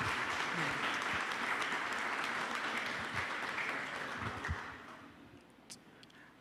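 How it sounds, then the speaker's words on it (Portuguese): A church congregation applauds loudly and steadily for several seconds, then the clapping thins and fades into a quieter room. "aplaudindo bem forte o nome de Jesus"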